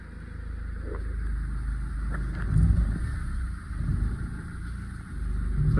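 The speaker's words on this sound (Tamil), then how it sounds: "அந்த பெல்ட்டோட நாய்ஸ் வந்து ஃபஸ்ட் கியர் செகண்ட் கியரில் மூவ் பண்ணும்போது வர்ற சவுண்டு" Mahindra XUV500 rolling in first gear with belt noise from a faulty alternator pulley: a steady low engine rumble with a thin high whine riding above it, swelling briefly a couple of times as the vehicle moves.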